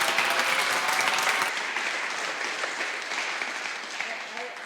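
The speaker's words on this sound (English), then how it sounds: "Maybe a round of applause." An audience at the close of an open-source energy bootcamp gives a round of applause: full, dense clapping at first that quickly softens and thins into lighter clapping as it goes on.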